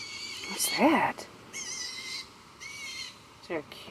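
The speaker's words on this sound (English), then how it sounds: "Is there a bird that's mad" Several sharp, repeated bird calls ring out in short bursts, sounding agitated, against a quiet background.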